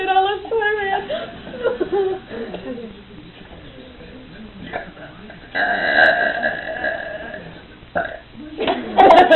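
A long, drawn-out burp from a contestant in a burping contest rumbles and wavers, with people talking and laughing around it.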